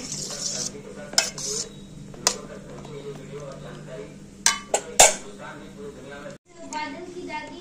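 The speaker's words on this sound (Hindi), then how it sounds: "तो बस सब इसमें डाल दिया हमने और अच्छे से मिक्स कर देंगे।" Dahi vada ingredients mixed by hand in a bowl, with intermittent spoon clinks, knocks and scraping against the dish while someone talks.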